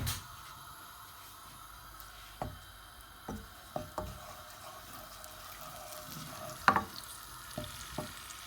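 Garlic ginger paste fries in lightly heated oil in a pan for a chicken karahi, giving a faint, steady sizzle broken by occasional sharp clinks and taps of stirring.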